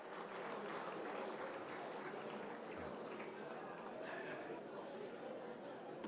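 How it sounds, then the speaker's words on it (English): Audience at the Boston Irish Honors luncheon in the Seaport Hotel applauds a guest arriving through the door, a steady, moderately distant patter of clapping with faint chatter and voices underneath. "How about a nice round of applause for Bill Kennedy coming in the door?"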